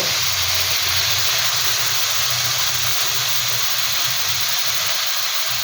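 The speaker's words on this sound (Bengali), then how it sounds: "এবার আমরা জল দেব" Water poured into a hot karai of frying taro and prawns gives a loud, steady steam hiss and spray that runs without a break and stays close.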